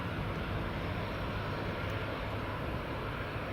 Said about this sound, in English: Loganair's ATR 42500 just about to depart.